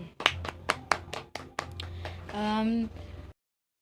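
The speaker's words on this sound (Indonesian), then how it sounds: "Tepuk tangan untuk kita semua" Elementary schoolchildren in an Indonesian classroom clap their hands in a quick run of about eight sharp, close claps, followed by a brief voice and a few more claps before it cuts to silence.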